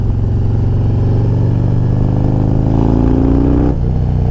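Harley-Davidson Road Glide Special V-twin fitted with a Star Racing 30/30 cam, running steadily at light throttle with a deep loud rumble that builds slightly before dropping off near the end, air drawn through the breather intake.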